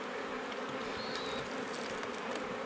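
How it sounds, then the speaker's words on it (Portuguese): Bees at a hive with a queen, eggs and honey comb, a dense steady buzz of many insects close by with no talk over it. "abelha"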